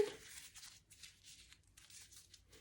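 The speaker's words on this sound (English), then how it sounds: "Then what you're going to do is you're going to crumple it up again." A sheet of paper is crumpled up by hand for a paint art project, producing faint, close crinkling in irregular bursts with brief pauses and no speech.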